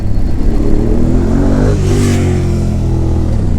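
A car pulls past a group of motorbikes on the road. The steady engine drone of the bikes carries throughout, and the car's engine swells as it passes close by near the middle, then fades.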